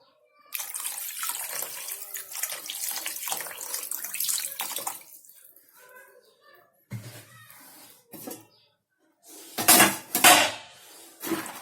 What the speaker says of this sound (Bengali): তা আমি এখানটায় শুধু জল দিয়েই করে নিচ্ছি